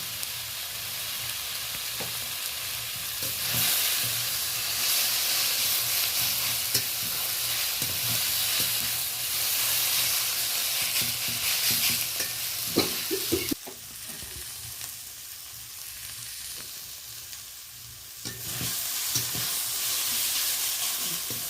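Potatoes fry in a pan with onion, green chilli and tomato, giving a continuous bright sizzle with occasional stirring knocks. The hiss dips briefly near the end, then returns.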